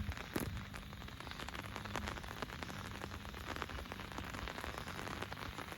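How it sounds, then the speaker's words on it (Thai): Steady rain patters on a surface, a constant close hiss of drops with no pauses. "โอ้ฝนก็ตกพอฝน"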